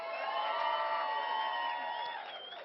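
Studio audience at a Kenyan comedy talk show cheering and whooping loudly for a guest, a dense sustained crowd roar with scattered shouts that fades slightly at the end.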